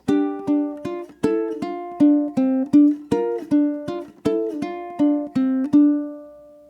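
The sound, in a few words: ukulele playing chords and melody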